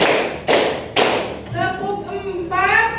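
Classroom clapping pattern: three sharp, loud claps at a steady beat, followed by children's voices chanting along.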